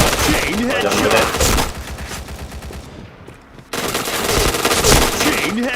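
Rapid automatic gunfire in the online shooter PointBlank, loud dense bursts with a short lull near the middle before firing resumes, with a voice heard faintly at times.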